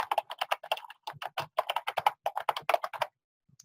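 Rapid typing on a computer keyboard, close and clear, a steady run of crisp key clicks with a brief pause near one second, ending in silence with a couple of faint taps.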